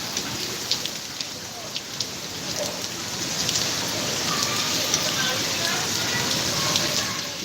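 Steady rain pours down on a town street with a dense hiss, drops pattering on hard surfaces close by, continuous and moderately loud throughout.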